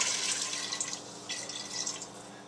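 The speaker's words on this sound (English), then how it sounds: "And now I can put some more water." Water is poured into a cooking pot to make stock for Tibetan beef dumpling soup, a steady splashing trickle running close and loud for most of the pass with a brief dip midway.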